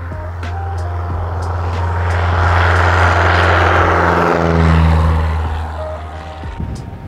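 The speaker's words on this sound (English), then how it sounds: "What a sweet little plane." A Piper Super Cub small plane takes off from a remote frozen lake on an ice-fishing fly-in. Its propeller engine drones steadily, swells to a loud roar midway, then eases back as it pulls away.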